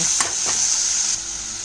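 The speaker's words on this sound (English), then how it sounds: "our chicken mince goes in" Chicken mince drops into a hot pan and fries with a steady, close, bright sizzle, a couple of quick stirring scrapes near the start, and no voices.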